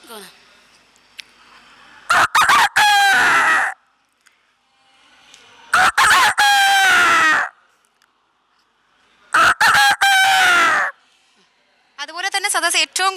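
At a Kerala school arts festival, a performer's voice imitates a rooster crowing: three loud, close, strained calls separated by pauses, each starting with sharp clicks, then a brief higher warbling call at the end.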